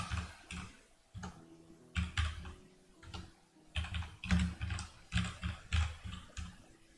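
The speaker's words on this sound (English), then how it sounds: "For the one of you that see me typing kind of shitty" Typing on a computer keyboard during game development work, bursts of quick clicky keystrokes in irregular clusters, close and fairly faint, with no talking.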